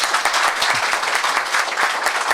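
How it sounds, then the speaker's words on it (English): Audience applause at a lecture event on Italian space history fills the room, a dense, steady patter of many hands clapping continuously from start to finish at an even, fairly loud level. "that deserves, I think, a round of applause"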